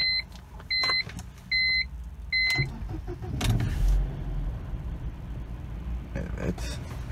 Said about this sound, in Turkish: şimdi arabamızın bir hem çalıştırma videosunu hem de bir sunroof'un açma